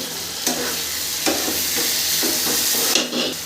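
Cow brain masala stirred and frying in a pan, a steady close sizzle with several scraping stirs at intervals and no talking.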